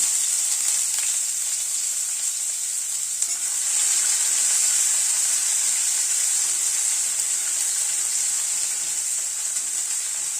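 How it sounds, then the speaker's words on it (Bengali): Chopped onion frying in hot oil tempered with panch phoron and asafoetida for a cabbage curry, giving a steady, loud, close sizzling hiss that runs unbroken throughout with no voices. "এখানে একটা পেঁয়াজ কুচি করে নিয়েছি, সেটা দিয়ে দিলাম।"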